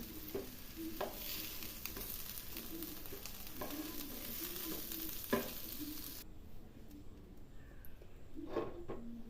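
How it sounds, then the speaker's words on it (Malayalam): Onions sautéing in a pan on a home stove, a steady close sizzle broken by repeated clinks and scrapes of stirring, with the frying hiss dropping off sharply partway through. "നമ്മൾ ഇതിനകത്ത് ഉള്ളിയൊക്കെ വഴറ്റിയെടുക്കുകയാണ്"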